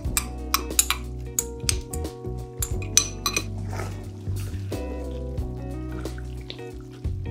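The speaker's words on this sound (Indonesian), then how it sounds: "masukkan bawang besar yang dikisar kasar" Coarsely blended onions being added to a simmering pot of black spiced beef stew, with repeated clinks and knocks of a utensil against the pot over a steady low hum and faint dripping.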